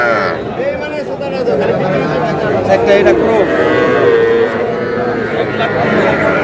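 Young bull calves, crossbreed and Sahiwal, low and moo repeatedly over a busy background of crowd chatter at a Cox's Bazar cattle market, the calls fairly close and loud.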